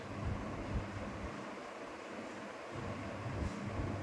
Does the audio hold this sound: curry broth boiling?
yes